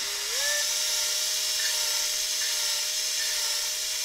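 A cordless screwdriver spins steadily, turning an engine valve through an attached hose to lap it against its seat, a close, even high-pitched whine with a brief rising start and a few slight wavers.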